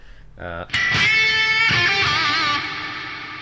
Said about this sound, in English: That's a really, really cool big reverb.